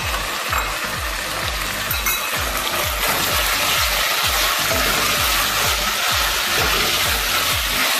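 Sliced calabresa sausage rounds sautéing in a hot pan, a loud dense continuous sizzle and crackle with rapid pops, close and steady throughout, no voices.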